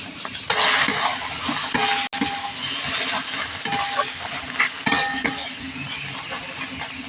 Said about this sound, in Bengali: এটা এবার বেশ মিনিট পাঁচ ছয়ের সময় নিয়ে নাড়াচাড়া করে করে কপির মধ্যে যে জলটা আছে সেই জলটা আমি শুকনো করে নেব